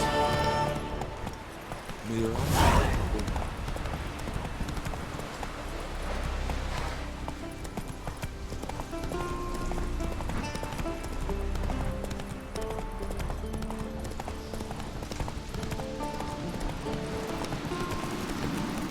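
Roach the horse galloping in The Witcher 3, a steady rapid clip-clop of hooves running throughout under music and a voice.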